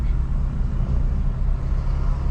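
A loud, deep engine rumble close by from a 600 hp BMW M3 (F80) S55 engine with an unvalved exhaust, a constant low drone with no clear revs or pops.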